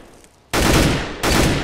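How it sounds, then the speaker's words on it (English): Two loud, close bursts of automatic rifle fire at practice targets in the Counter-Strike: Global Offensive weapons course, each a dense rattling volley following a quieter lead-in, with no talk. "Take out these two targets and we'll begin the test. Don't forget, shoot in short bursts."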